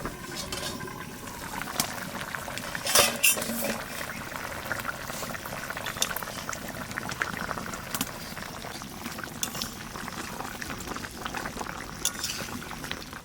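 Mustard hilsa curry bubbling steadily under a lid, a continuous busy simmer with small pops and gurgles at an even level, no voices.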